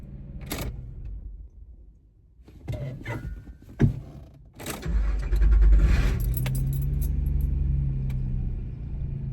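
A car engine switched off and restarted with keys jangling in the ignition, close jingles and clunks followed by a starter crank and a low steady idle rumble.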